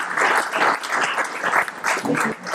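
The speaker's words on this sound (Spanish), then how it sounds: "¿Podéis aplaudir un momentito, por favor, a ver cómo suena?" An audience at a Spanish book presentation for a magazine anthology claps briefly on request, a short, fairly close ripple of applause in uneven bursts.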